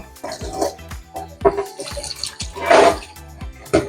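Salted salmon is rinsed under cold running tap water, with close, intermittent bursts of splashing and gushing as the fish is moved through the stream.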